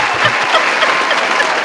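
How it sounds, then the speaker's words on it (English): An audience claps steadily in a short, dense burst of many hands, fairly close and continuous, with no voices over it. "we're going to give Stephanie some round of applause as well"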